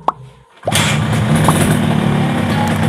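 A Yamaha RX King motorcycle engine catches after a brief pause and settles into a loud, close, steady idle that carries on to the end.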